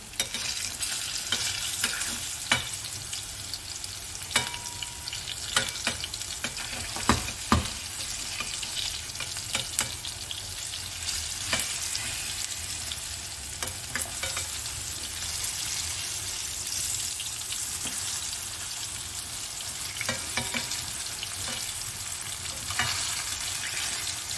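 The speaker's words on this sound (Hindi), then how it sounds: "एक वेज हम फ्राई कर लें, फिर उसके बाद दूसरा करेंगे" Vegetable wedges fry in a shallow non-stick pan with a steady close sizzle and crackle, broken by occasional sharp spatters and light scraping.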